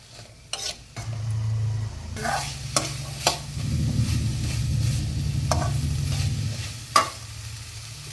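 Boiled white chickpeas being stirred with onions in a pan, a steady frying sizzle broken by sharp spatula scrapes and taps against the pan, with no talk.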